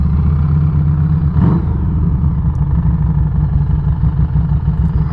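A Harley-Davidson motorcycle engine idles steadily nearby in a parking spot, a continuous low rumble with a brief swell partway through and no talk.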